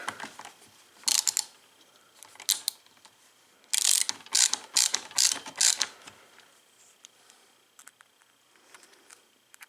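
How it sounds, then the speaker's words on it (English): Screws driven into the casing of a ResMed 10 device, heard as bursts of rapid ratcheting clicks from a close screwdriver, separated by quieter pauses. "I'll put the screws in and then the face plate."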